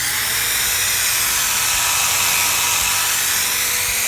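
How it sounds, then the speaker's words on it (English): A drill spins a Tampico-bristle buffing brush to apply wax to an old finish, giving a steady, loud high-pitched whir that holds constant and alone throughout. "I'm just letting the sort of weight of the drill apply the pressure."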